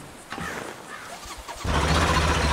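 A tractor engine in GTA 5 turns over and catches at about 1.6 seconds, jumping into a loud, steady, rumbling idle after a stretch of quieter ambient noise.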